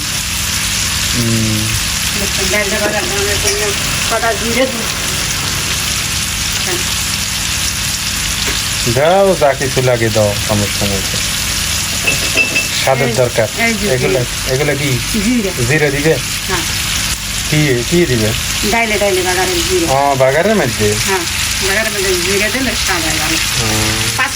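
Dal is tempered with leafy greens in a hot pan, a loud, steady frying sizzle like heavy rain that carries on throughout while someone talks over it at intervals.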